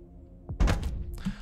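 A single muffled, heavy thump from a concussive grenade detonating in Heat Signature, breaking into a short burst of rumbling debris noise against a quiet background hum.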